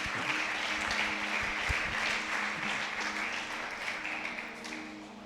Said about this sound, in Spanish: denles aplauso al Señor.